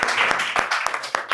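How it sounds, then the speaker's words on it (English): Audience at a community day gathering claps for a group, with several sharp, loud, rhythmic claps standing out over a lighter spread of hands close by. "Let's clap for them"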